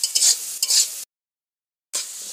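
Potatoes frying in a kadai with a little turmeric give a steady, close hiss and sizzle with stirring scrapes, broken by a brief full silence before the frying resumes.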